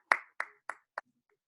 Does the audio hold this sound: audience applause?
yes